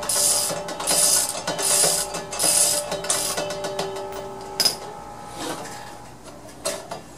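Tru-Cut reel mower blades are spun by hand during blade lapping, giving a rhythmic whirring, clicking mechanical sound in repeated turns that gradually slows and fades, with a few sharper clacks near the end.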